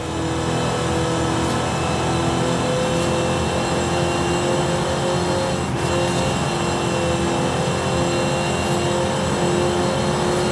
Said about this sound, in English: That centrifugal supercharger really sounds meaty